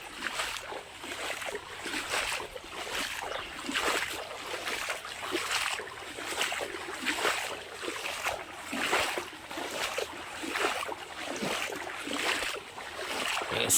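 A small village irrigation canal flows steadily, its close, broad rushing wash pulsing gently in level without any voices.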